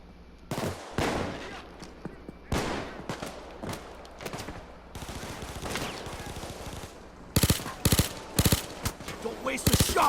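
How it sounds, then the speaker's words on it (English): Gunfire in the video game Payday 2, with bursts of rapid automatic fire and single loud shots, close and sharp, cutting in and out with pauses, under faint game voices. "Who the hell is shooting me?"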